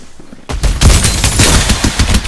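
Video game gunfire from Farlight 84 bursts out loudly after a brief quiet moment, with rapid automatic shots rattling continuously in a dense, close-up barrage.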